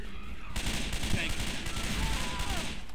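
Rapid gunfire from Left 4 Dead 2 crackles in dense, continuous bursts for the whole stretch, loud and busy, with game noise mixed under it.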